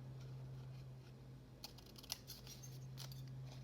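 Scissors trim the paper edges of a journal pocket with a few faint, quick snips over a low steady background hum.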